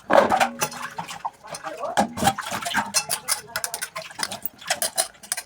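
Cooking pots and dishes are washed by hand in a home kitchen, metal vessels clanking and scraping in a quick, steady rhythm close by, with someone talking throughout.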